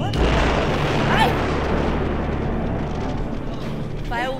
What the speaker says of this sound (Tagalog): Fireworks na may granada.